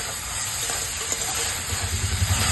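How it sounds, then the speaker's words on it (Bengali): Banana stem curry being stirred in a pan with ghee and sugar, a steady close sizzle and scraping hiss running throughout with a few soft thumps near the end. "ঘি আর চিনিটা দিয়ে এবার ভালো করে মিশিয়ে নিয়ে আর নামিয়ে দেবো।"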